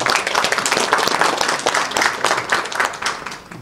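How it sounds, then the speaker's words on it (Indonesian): Audience applause fills a ceremony inaugurating futsal and beach soccer officials, with dense, steady clapping that stays loud from start to finish. "tepuk tangan."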